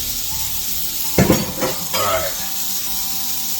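Breakfast skillet ingredients sizzle steadily in a hot pan, a continuous bright hiss with a few louder bursts as the food is stirred, and a brief word is spoken over it.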